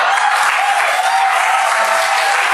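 Dense, steady audience applause from a comedy show crowd, loud and continuous throughout with no voices over it.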